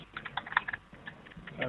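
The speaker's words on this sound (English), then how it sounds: "I'm getting your keyboard sound" Quick, light clicks of computer keys being typed in short bursts, faint and slightly muffled as if over a phone line.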